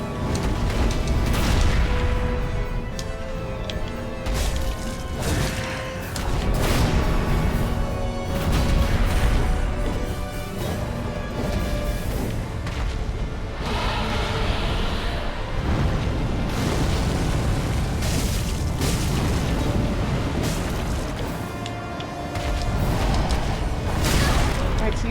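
Fire attack explosions from a boss fight in Dark Souls 3, loud dense booming and crashing bursts that roll on continuously over a music-like backdrop, with talking layered underneath.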